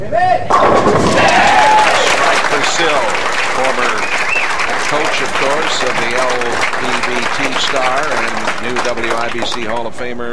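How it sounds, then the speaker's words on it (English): Home crowd at a 1995 professional bowling championship match in Hawthorne, Illinois, roaring with cheers and applause that stay loud and steady throughout, with a commentator talking over the noise. "And you could hear the cheering in the background"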